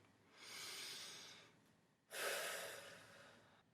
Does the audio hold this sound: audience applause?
no